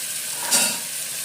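Greens sautéed with salt and chili powder sizzle steadily in a pan, a close, continuous frying hiss with a brief stir-like swell in the middle.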